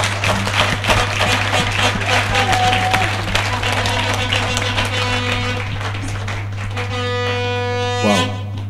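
A crowd applauds steadily for several seconds, the dense clapping loud and continuous before tapering off, with a low electrical hum underneath.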